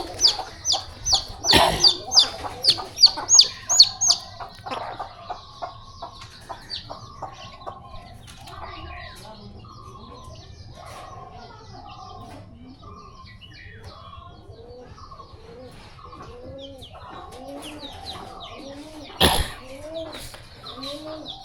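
Pigeons kept at home call and coo in a run of repeated, fairly soft notes, with a burst of louder calls early on and one sharp noise near the end.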